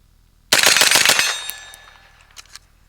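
A Colt SMG clone fires a rapid, loud string of STV 124 grain rounds at close range, the burst lasting about a second before the echo decays and a couple of faint later clanks sound.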